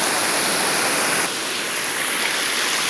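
Steady roaring rush of water from the Vega del Sol waterfall, a dense continuous wash of noise heard up close with no voices.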